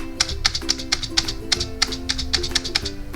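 Fast typing on a computer keyboard: a quick, steady run of about a dozen crisp key taps, close and clear over a faint background hum, with no voices.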